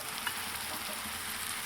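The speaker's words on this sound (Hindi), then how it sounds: "अब हम इसमें डाल देते हैं अपने फ्राई बैंगन।" Fried brinjal pieces dropped into a pan of sizzling tomato curry, a soft, steady sizzle and faint bubbling throughout the short moment, fairly quiet, with no voices.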